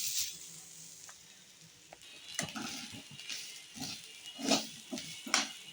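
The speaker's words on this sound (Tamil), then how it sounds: "அதே கடாயில் தேங்காய் 2 முடி திருகி வச்சுருக்கிறேன். அதையும் வறுத்து எடுத்துக்கலாம்." Grated coconut from two coconuts roasting in a kadai, a quiet dry sizzle with intermittent stirring and scraping strokes growing louder toward the end, no voices.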